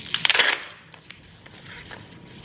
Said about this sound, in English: Fill up your cup with ice.